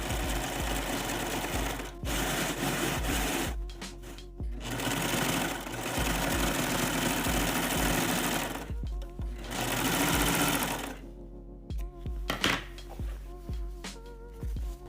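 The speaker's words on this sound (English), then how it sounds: "Serge or stay stitch the top of the waistband." Serger running loud and steady while stitching the top edge of a tennis skirt waistband, with brief pauses and restarts between bursts of rapid mechanical whirring.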